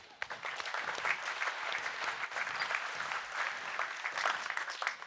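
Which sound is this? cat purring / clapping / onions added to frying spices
clapping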